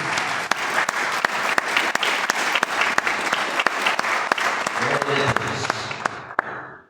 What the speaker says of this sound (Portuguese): Os irmãos podem sentar e louvar o Senhor com as palmas bem forte para Jesus.